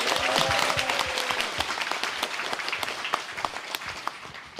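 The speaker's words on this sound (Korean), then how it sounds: "박수 한번 칩시다." An audience at a political rally breaks into a burst of applause, many hands clapping loudly at first and then gradually thinning out into scattered claps.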